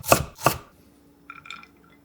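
Two sharp knife strokes through a carrot on a cutting board, cut into thin strips, come close and crisp, followed by a faint clink of a utensil, with no talking.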